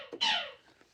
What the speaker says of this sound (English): the heat ray shooting itself, is a single guitar stroke on an electric guitar